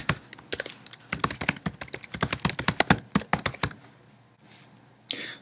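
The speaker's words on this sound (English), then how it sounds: "So we type the email address there." Rapid close keystrokes on a computer keyboard as an email address is typed into a file-sharing box, then a pause with faint clicks at the end.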